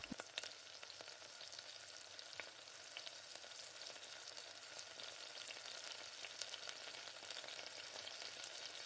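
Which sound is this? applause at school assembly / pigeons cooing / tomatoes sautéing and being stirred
tomatoes sautéing and being stirred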